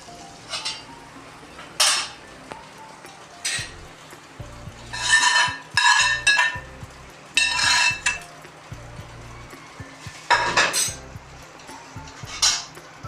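Fried onion tadka is scraped and poured from a pan into mustard greens saag in a pot, with repeated metal spoon clinks and scrapes against cookware over a faint sizzle.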